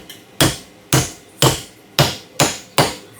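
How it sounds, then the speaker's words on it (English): A hammer strikes a bent nail to straighten it, six sharp, loud, close blows landing roughly every half second with short decays between them. "you can just take your hammer, straighten it out like that."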